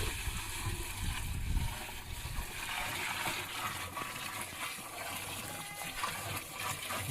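Twenty litres of native cow urine pour into a large container of water, making a continuous close, loud gushing and splashing that holds steady throughout with no talk.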